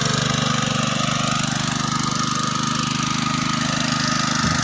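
A fire pump engine runs on bamboo charcoal instead of fuel, producing a steady, loud, close mechanical drone with a fast regular chug and a faint clunk near the end, with no voices.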